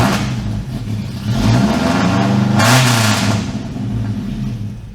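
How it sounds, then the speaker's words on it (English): An old Toyota truck engine fitted with a supercharger revs up loudly and close by, the pitch climbing and falling through two surges over a steady, throaty mechanical roar. "I'm so excited to maybe hear the supercharger for the first time. Can confirm, still loud."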